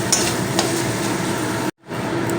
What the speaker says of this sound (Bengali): এই যে শিলবাটা মশলা কষাচ্ছি